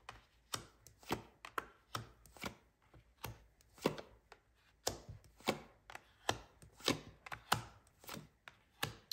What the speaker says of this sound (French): J'étale les cartes et puis après, on va commencer l'interprétation